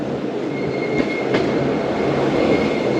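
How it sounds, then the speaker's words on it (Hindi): The Karachi Express rolls into a station near Raiwind Junction with a loud, continuous rail rumble and faint wheel squeal throughout. "कराची 4:22 पर दोस्तों कराची एक्सप्रेस पहुंच रही है"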